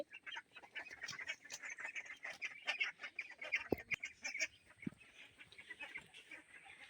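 A flock of young domestic ducks quacking and chattering continuously at close range, with busy overlapping calls throughout.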